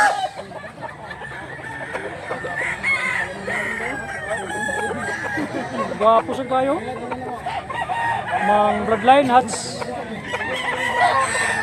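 Bullstag roosters with blue legs crow repeatedly at a cockfighting market in Mantalongon, Cebu, the calls overlapping amid steady crowd noise while people talk nearby.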